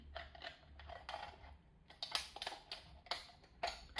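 Sharp, irregular crunching snips of scissors biting through thin metal, close up, several cuts in quick succession with short pauses between.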